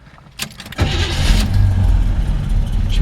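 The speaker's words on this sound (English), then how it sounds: "She fires right up." A 1973 Chevrolet Nova cranks briefly with a short starter whir, then catches and settles into a steady, throaty idle through a small exhaust, close and loud, with no talking.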